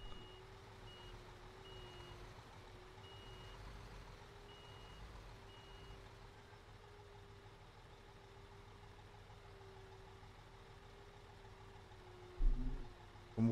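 A truck reversing in the video game Bau Simulator 2015 sends out faint, steady repeated beeps over a low idling engine hum, with a brief louder clunk near the end.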